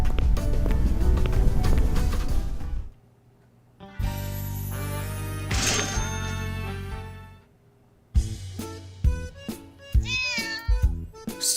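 Cats meow in a cat cafe inside a video game, the calls rising over busy game music in several bursts with short quiet gaps between them.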